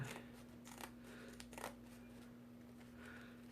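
Scissors cutting straw to shape a 1950s-style percher hat: a few soft, crisp snips spaced irregularly, close but quiet, with no talking.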